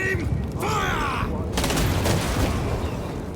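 A firing squad's volley in Space Marine 2, one loud crashing burst of simultaneous shots that rings out and decays, with a voice heard just before.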